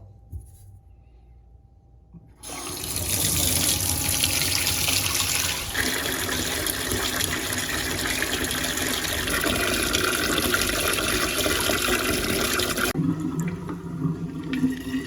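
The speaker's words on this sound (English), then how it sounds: "Let's see if this thing drains and we don't have any leaks." Water rushes steadily down a newly replaced kitchen sink drain in a 100-year-old building, a loud continuous gurgling flow that starts abruptly and cuts off near the end, with no talk.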